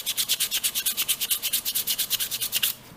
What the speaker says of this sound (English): if I take a piece of sandpaper, as he explains, and you sand this way